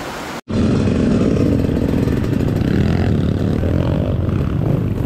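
A dirt motorcycle on a hard trail ride roars steadily and loudly up close, engine droning without a break after a brief cut at the start.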